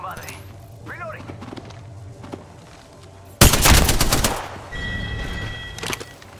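Automatic gunfire in the battle-royale shooter Apex Legends, a sudden loud burst of rapid shots lasting about a second, followed by lingering game effects and a voice talking over the action.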